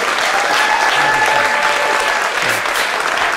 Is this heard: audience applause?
yes